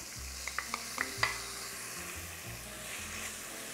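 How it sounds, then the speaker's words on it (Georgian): Peas tip into a simmering soup pot seasoned with adjika, giving a few quick clicks and taps at the start over a soft, steady bubbling simmer. "ეხლა აი ამ ჩვენ ბარდასაც მოვათავსებ აი აქ"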